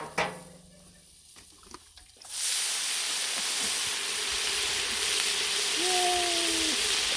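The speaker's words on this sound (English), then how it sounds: "I'll give it one more shot of the steam dome just to be sure." A steam dome over a flat-top griddle cooking green beans releases a loud, sudden burst of steam that settles into a sustained, close hiss after a few quiet clicks and scrapes.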